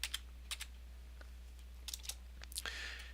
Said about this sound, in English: you can use the arrow keys on your keyboard